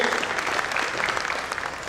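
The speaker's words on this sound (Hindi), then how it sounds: "जोरदार ताली" Theatre audience at a stage play giving strong, dense applause, steady and close for the whole short stretch, with no talk over it.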